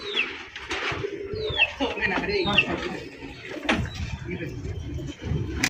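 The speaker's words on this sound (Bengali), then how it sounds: "আনকম রেয়ার কালেকশন ইরানি হাই ফ্লাইং কবুতর দেখেন" Iranian high flying pigeons coo softly and repeatedly, with some wing flutters and bird chatter, beneath someone talking steadily nearby.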